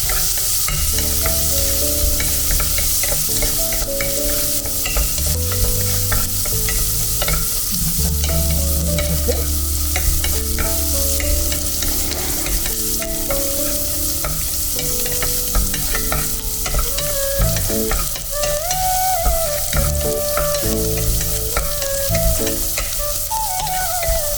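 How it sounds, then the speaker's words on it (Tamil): Ingredients sauté in ghee in a pan for ghee rice, giving a constant close-up sizzle and frying crackle with occasional stirring scrapes, steady and loud throughout while background music plays and no one speaks. "எல்லாமே வதங்கிட்டு இருக்குது"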